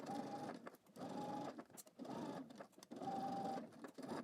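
A sewing machine stitches a 5/8-inch seam along a garment pocket in four steady bursts of rapid, even whirring, each run lasting about half a second with brief pauses between, close and clear with no talking.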